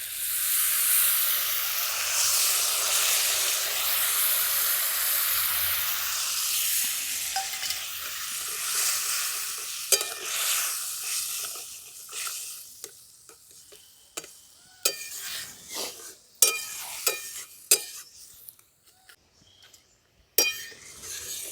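A paste of ground cumin, mustard and chili mixed with water sizzles in oil with small river fish, a loud hiss at first that fades into scattered ticks, pops and scraping stirs.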